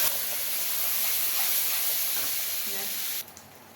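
Tomato puree goes into a pan of frying spices for a mixed vegetable curry, giving a loud, continuous hiss and sizzle that drops away abruptly near the end.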